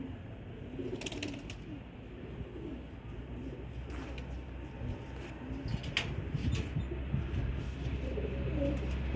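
Pigeons on a rooftop coo softly at intervals over a low, rumbling background, with occasional sharper chirps and flutters scattered throughout.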